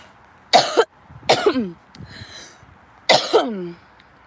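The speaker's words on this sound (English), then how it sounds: "Sorry about the coughing." Three sharp, separate coughs close up, each a quick double burst with a raspy tail, spaced by short pauses.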